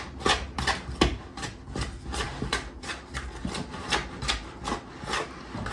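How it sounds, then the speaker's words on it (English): A spatula scrapes around the sides of a mixing bowl of thick banana bread batter, giving a steady run of rasping, rubbing strokes close by with no talk. "Now comes the time where I'm going to start scraping down the sides just to try to mix it all a little better."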